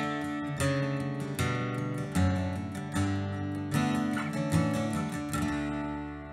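Acoustic guitar strums a series of ringing chords walking downward from a D shape, played clearly and alone at a moderate pace, as backing for the Irish tune The Maid Behind The Bar.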